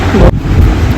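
Hard rain pours during a storm at a Bengali home, a loud, dense wash of noise with low rumbling underneath that suggests thunder, heard alone and close for a brief moment.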